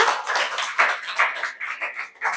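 A small classroom group claps together after a micro-teaching presentation, giving a short run of fairly even, rhythmic hand claps with no talking.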